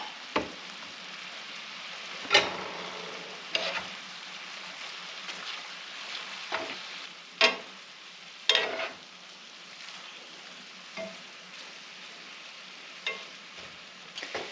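Bacon sizzles in a pan with a steady frying crackle, broken by several sharp scraping stirs spaced through the stretch, close and moderately loud with no talking.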